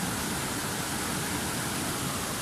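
A rocky river stream rushes past stones near a waterfall, a dense, steady roar of flowing water filling the whole moment with no voices.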